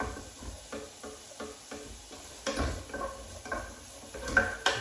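Sweet and sour chicken balls stirred in a pan, with a steady series of light scraping knocks from the utensil against the metal and a soft sizzle underneath, heard up close with no talking.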